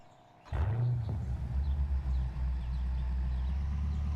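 A GT car's engine in the racing game Test Drive Unlimited Solar Crown cranks and fires with a sharp bark, then settles into a steady, deep, low idle rumble.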